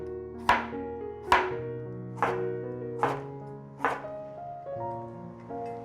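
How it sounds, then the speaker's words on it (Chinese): A knife slices a cucumber on a cutting board in five sharp, evenly spaced cuts, close and clear over faint background music. "把小黄瓜切片。"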